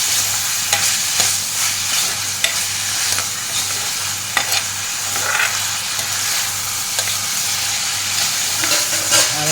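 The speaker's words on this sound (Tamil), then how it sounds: "எல்லாத்தையும் போட்டு நல்லா வதக்கணும்" Squid masala sautés in a pan, stirred continuously. A steady, close sizzle sounds throughout, with scraping strokes of the spoon at an uneven rhythm and no voices.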